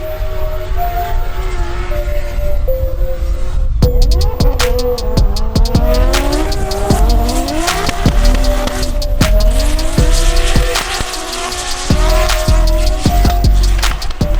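Drift cars on the Manfeild circuit during a D1NZ tandem chase, a 2JZ-engined GT86 hunting an S13: loud revving engines rising and falling with repeated sharp bangs and continuous tire squeal, close and busy throughout with no talk.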